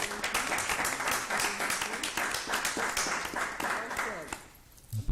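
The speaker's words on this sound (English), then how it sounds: "that deserves applause and recognition" Applause from an audience at a public school district board meeting, steady broadband clapping through most of the stretch before fading near the end, with some talk mixed in.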